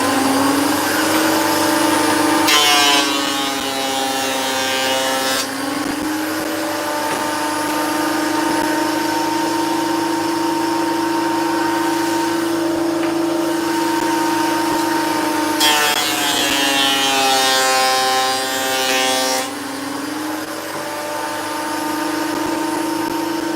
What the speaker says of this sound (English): let's get the rest of these planed now